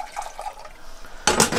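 Warm water from a kettle pours into a measuring jug in a home kitchen, a short, bright splashing gush arriving abruptly near the end after a quieter, muffled lead-in.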